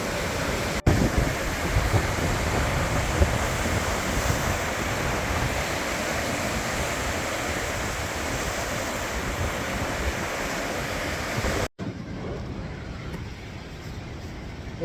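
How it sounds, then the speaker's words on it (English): Strong, steady wind roaring across the open shore of Lake Superior with waves surging beneath it, loud and continuous with heavy microphone buffeting, then abruptly dropping to a quieter gusty rush near the end. "The wind has really picked up quite a bit."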